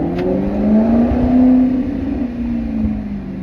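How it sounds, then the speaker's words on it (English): A Maserati's exhaust howls under a quick burst of acceleration, a loud sustained engine drone rising and then easing slightly in pitch, close to the microphone with no voices. "let me try to do a quick acceleration here so you guys can hear that howl"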